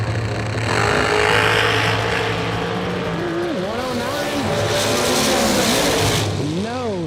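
Drag race cars launch hard off the line at a Saturday nationals event, engines roaring loud and sustained with rising and falling revs, while an announcer talks over the noise.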